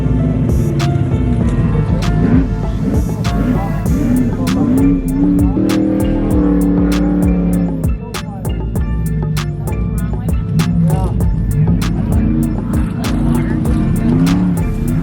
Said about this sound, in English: Here's a little pit action from the 4800 race